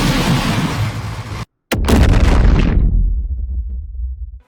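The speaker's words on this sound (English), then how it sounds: "The explosions hit hard and drop deep enough to rattle your windows across the other side of your house." Heavy movie explosions from Godzilla Minus One, a huge booming blast with deep rumbling bass that cuts out abruptly, then a second roaring detonation that rolls off into a low lingering rumble.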